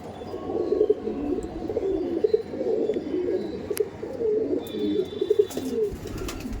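Pigeons coo in a loft in Howrah, soft throaty rolling calls repeating and overlapping close by, with a few faint higher chirps and small knocks in the background.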